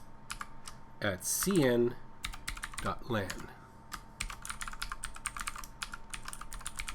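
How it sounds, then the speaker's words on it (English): Typing on a computer keyboard at a Windows login screen, a quick run of close, crisp key clicks that continues steadily through the clip, with someone speaking briefly over the start of it. "I'm going to type in administrator"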